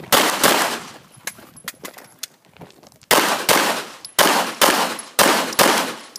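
Pistol shots fired police-style ring out loud and close, a quick pair at the start, a few quieter pops, then a steady series of four evenly spaced sharp bangs with ringing tails.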